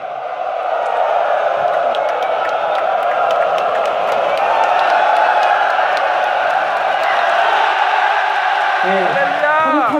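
Korean soldiers send a crowd wave back from the opposite side, their continuous loud group cheer and whoops swelling across the room, with a faint whistle-like tone rising near the end.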